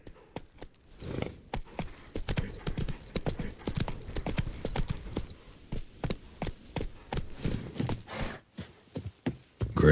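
Horse hooves clip-clop steadily on the ground in The Witcher 3, a close, rhythmic trot of sharp knocks with light jangling tack under it, continuing throughout.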